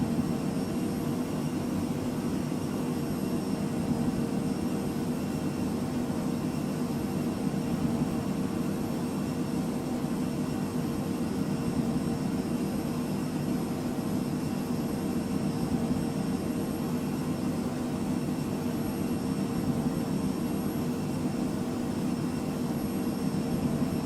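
Phenom 100 business jet in Microsoft Flight Simulator on approach, a continuous steady jet engine whine and rumble holding level throughout, with no talk.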